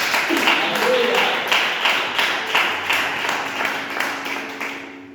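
A church congregation applauds in steady rhythmic claps that pulse evenly for several seconds at a moderate level, with a voice heard faintly behind them.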